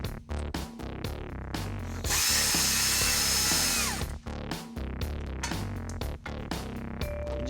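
A power tool zips out the bolts that hold the sway bar to the rear frame of a Dodge Magnum Hemi wagon, one loud sustained burst of whirring noise over a busy, layered background.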